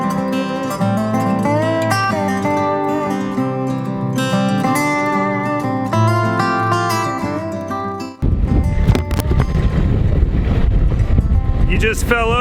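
Strong gusting wind buffets the microphone outdoors during a snowstorm, a loud broadband roar that takes over in the final few seconds after music-like tonal sound.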